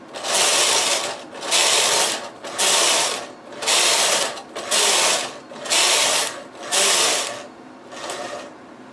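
A knitting machine's lace carriage is pushed back and forth across the needle bed, making stitch transfers for a scalloped lace edge. It gives about seven loud, evenly spaced mechanical whirring and clicking passes, each with a short pause between.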